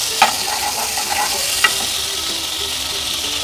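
Chicken pieces frying in melted butter in a pan, giving a steady close hiss with a few sharp clinks from stirring near the start and middle, with no voices.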